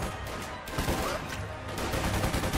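Gunfire crackles in the Company of Heroes 2 multiplayer battle, a dense continuous fusillade of shots at close range, loud and unbroken.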